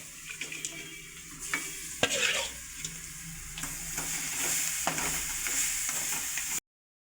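Quail pieces frying in a home kitchen pan for kadai fry, a steady close sizzle with repeated scrapes and knocks of stirring spread across the whole stretch, no voices.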